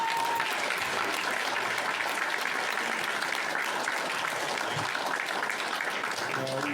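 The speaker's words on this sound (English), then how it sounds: "Let's give a round of applause." Steady applause fills a city council meeting in Savannah, a dense, even patter of many hands clapping at moderate distance throughout, with a faint murmur of voices beneath.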